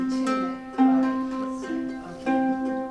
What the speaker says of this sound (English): it should sound like an open 3rd string.